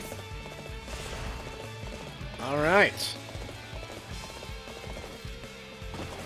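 A horse in Dynasty Warriors 8 Empires runs with rhythmic hoof clip-clops under battle music, broken midway by a brief loud neigh; a voice speaks briefly.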